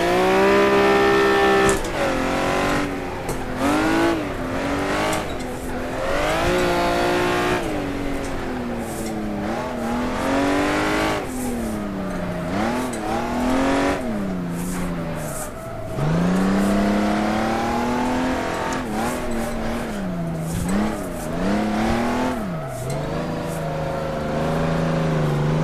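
A Honda NSX engine revs hard around the Buckmore kart circuit, climbing and falling in repeated loud swells as the car holds second gear through tight turns, with brief lifts off the throttle between surges.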